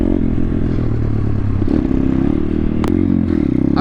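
A pit bike engine drones loud and close as the rider holds a wheelie, with rattling and scraping mechanical noise and a short sharp clack partway through.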